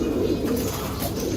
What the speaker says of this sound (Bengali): এগুলো সব জেট লাইনের কবুতর।